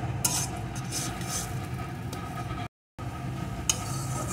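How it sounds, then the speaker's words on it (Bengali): A spatula stirs bitter gourd and egg frying in a pan, giving soft scraping and light clinks over a low, steady sizzle. The sound is faint and close, with a brief drop to silence partway through. "এইভাবে খুন্তি দিয়ে সমানে নাড়বো আর ভাজতে থাকবো"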